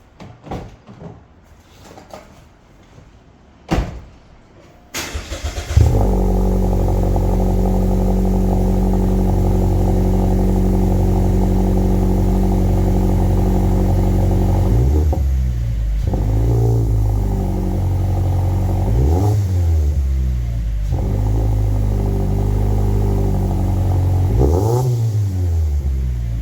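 A Mazda3 with a custom-made exhaust starts after a few quiet seconds of faint handling noise, then settles into a loud, steady idle that is broken by several sharp revs rising and falling near the end.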